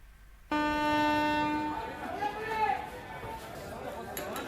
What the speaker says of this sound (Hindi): रायपुर रेलवे स्टेशन पर पिछली बार की तरह नजारा है।